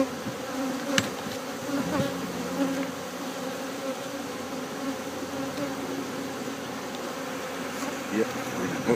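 Dense, continuous buzzing of many honeybees around an open hive, close and steady throughout, with a low background murmur and occasional faint knocks.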